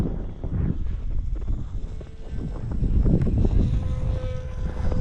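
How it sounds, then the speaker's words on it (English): Strong gusty wind buffets the microphone outdoors while a WLToys Pitts RC plane flies overhead, a steady roaring rush with a faint propeller drone mixed in, loud and continuous throughout. "Wind's whipping."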